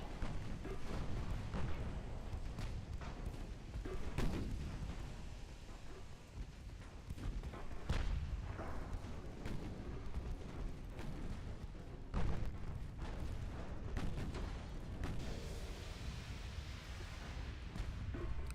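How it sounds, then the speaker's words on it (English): Naval gunfire in the Ultimate Admiral Dreadnoughts game: repeated deep booms and blasts from ship guns and an ammunition detonation, scattered irregularly over a continuous rumbling battle bed at moderate level, no talk. "Oh God, we just suffered an ammo detonation."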